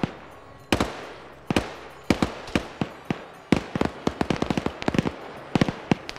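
Gunfire from a BTR armoured vehicle in a military video game, sharp cracking shots in irregular bursts and quick clusters, loud and close with no talk.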